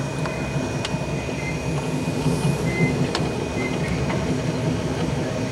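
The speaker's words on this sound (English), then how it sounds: "Now the train's picking up speed" Amtrak Southwest Chief passenger train in New Mexico picks up speed, a steady rumbling roar of wheels on rails with faint clicks and a thin whine, heard from on board with no talking.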